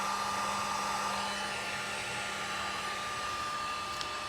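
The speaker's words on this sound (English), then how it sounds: "And my heat gun only has one setting, high." A heat gun blows hot air on its high setting while working on a 1981 Corvette, a steady, loud broadband whoosh with a faint tonal hum that runs unbroken and close for the whole stretch.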